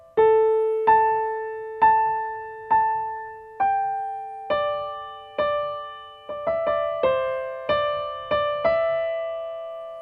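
Solo piano plays a slow, sparse passage, with single notes and a few dyads struck one after another and each left to ring and decay, gathering into a quicker cluster near the end.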